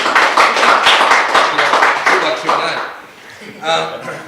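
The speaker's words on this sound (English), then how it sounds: "So just give a round of applause to our forum speakers." An audience at a Central Australian eco fair gives a round of applause to forum speakers, dense loud clapping that fades out after about three seconds, followed by a voice speaking.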